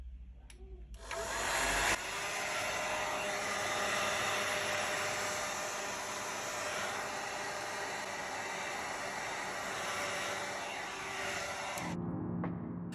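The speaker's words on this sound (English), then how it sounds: "Use a heat gun or hair dryer to heat up the surface of the back panel." A hair dryer or heat gun blows with a continuous, loud whooshing roar, switching on after a moment and cutting off near the end, heating the back panel of a Google Pixel 4 phone.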